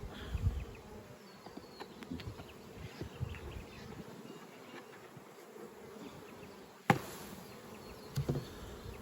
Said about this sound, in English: So show you what the bees look like